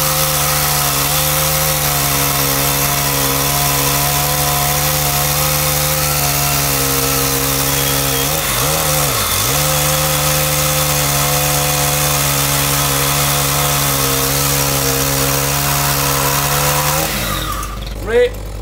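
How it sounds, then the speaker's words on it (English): Milwaukee cordless power saw cutting steadily for about seventeen seconds, a loud continuous motor whine with a brief dip in pitch midway, then stopping abruptly near the end. "This is a true replacement tool for petrol, as when it comes to speed of cut, it's able to outperform leading petrol cold saws here on the market."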